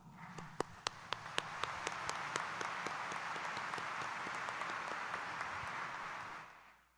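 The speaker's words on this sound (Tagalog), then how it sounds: "iparinig natin kay Jesus Nazareno ang mas malakas na palakpak" Congregation at Sunday mass in Quiapo Church applauding, starting with a few sharp individual claps that swell into sustained, even applause before fading out at the end, heard at a distance.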